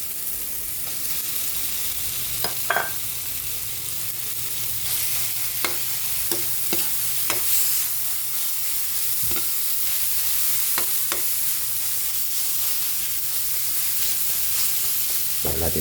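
Ground pork sizzles steadily in a pan with tomatoes, a constant hiss broken by scattered scrapes and taps of a utensil stirring, close and even throughout with no talking.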